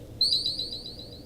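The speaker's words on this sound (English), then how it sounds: "Just a couple of little beeps" A few quick high-pitched electronic beeps from the video game Streets of Rage 3, in a short descending sequence, clear over a quiet background hum.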